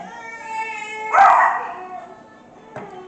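A pet dog close by lets out a drawn-out howl with barking yips, a loud vocal burst in the middle and a short yelp near the end, over a faint steady background hum.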